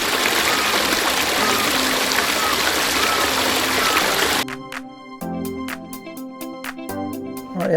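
Steady broadband rush of Stokes Creek flowing in Dharawal National Park, New South Wales, Australia, for the first half, then it cuts out to quieter sparse tones and clicks.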